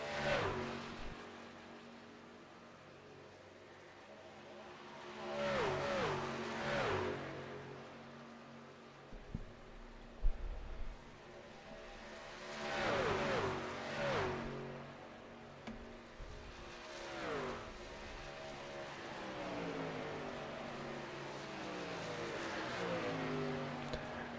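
Pickup trucks race at Michigan in a NASCAR-style truck series, their engines roaring past in repeated waves that swell and fade as the pack sweeps by, with a steady engine drone between passes.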